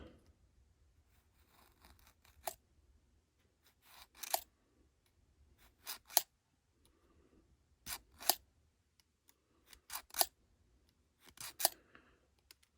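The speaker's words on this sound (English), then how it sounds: "all I do is just take a knife, X-Acto knife, and scribe right across" An X-Acto knife scribes a line along a straight edge on a 1953 Ford pickup, giving a series of short, sharp scraping strokes in quick pairs and clusters, close up with no talk.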